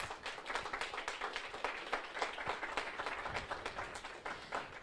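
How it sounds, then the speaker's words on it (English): Audience at a product presentation event giving a round of applause, dense continuous clapping heard alone at moderate-to-faint level for several seconds. "Another round of applause, please."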